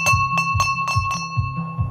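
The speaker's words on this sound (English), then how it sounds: "It's ringing the bell." A hand bell rings in a steady rhythm, six or so bright clanging strikes about a quarter second apart, close and loud with sustained ringing tones between hits.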